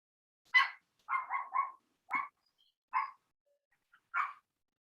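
A dog barks in a quick series of short, sharp yaps, some doubled, with pauses between them against an otherwise quiet background, close and clear.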